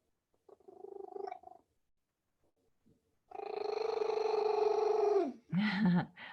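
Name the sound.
cat purring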